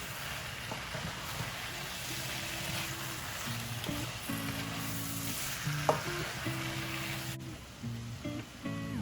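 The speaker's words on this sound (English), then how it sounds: "It doesn't take long for the spinach to cook." Spinach cooks in a pan for smoked chicken alfredo with butternut squash, giving a steady close sizzle and frying hiss with occasional stirring scrapes, under a faint background hum.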